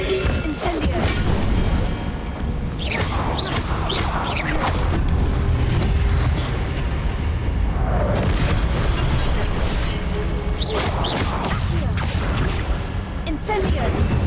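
Incendio fire spells blasting in Hogwarts Legacy, heavy booming bursts and crackles layered over continuous game music and effects, with a voice speaking between casts.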